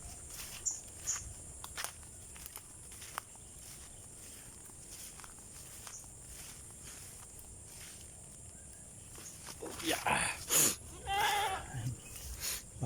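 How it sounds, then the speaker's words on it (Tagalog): Goats bleating in the rainy season, a few bleats rising near the end over a faint background of steps and rustling in a quiet outdoor pen. "Hirap mag-alaga ng kambing pag tag-ulan."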